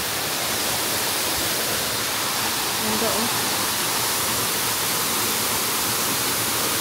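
Steady broadband rush of heavy water falling at a scenic waterfall with walkways for visitors, continuous and fairly loud, with someone speaking over it.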